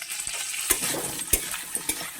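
Taro pieces frying in oil with ginger-garlic paste, a close sizzle punctuated by several sharp spatula clinks and scrapes against the pan, no voices.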